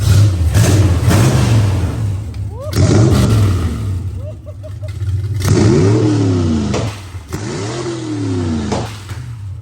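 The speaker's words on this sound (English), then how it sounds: "if I keep my foot in the throttle, it'll stay lean." Honda mini truck engine revving hard under throttle in repeated surges, a close, loud drone with rising and falling pitch sweeps and brief gaps between pulls, with voices talking over it.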